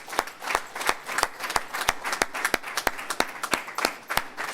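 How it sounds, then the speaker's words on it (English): Audience applause at a religious lecture, a steady run of sharp, distinct handclaps that sound close and fairly sparse, like a smaller crowd clapping in rhythm, with no talking over it. "Give yourselves a warm round of applause"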